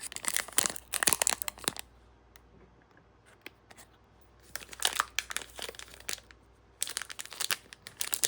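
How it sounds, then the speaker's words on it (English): Panini Score football card pack being torn open, with bursts of crinkly foil wrapper crackling and tearing close up, separated by quiet pauses with faint ticks, no speech. "Go ahead and open our first pack."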